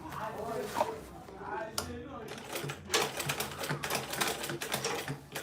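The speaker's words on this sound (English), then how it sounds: "I'm just making sure I'm sewing on the previous stitch, so I can get a very neat work" A sewing machine stitches fabric along a previous line of stitching for a handmade craft piece, a rapid, steady mechanical chatter that runs through most of the clip, with brief voice sounds near the start.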